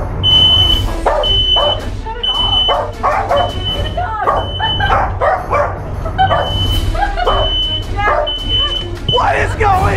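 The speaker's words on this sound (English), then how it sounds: "Is that a fire alarm?" A fire alarm beeps indoors in a repeating, piercing pattern while a dog barks and yips loudly over it, and voices can be heard in the background.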